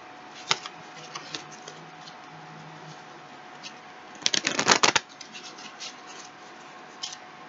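Tarot cards being shuffled during a reading, with soft scattered riffles and taps and a loud dense burst of card flicks near the middle, heard alone without talk.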